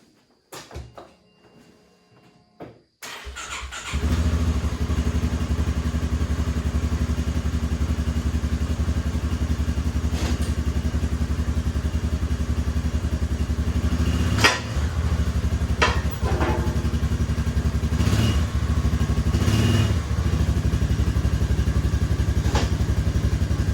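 A 2015–2021 Polaris Ranger 570 mid-size side-by-side engine idling after an oil and filter change. It starts after a quiet opening, then holds a loud, steady, close idle with a few metallic clanks.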